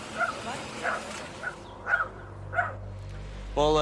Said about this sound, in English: Well, the dogs are still in there.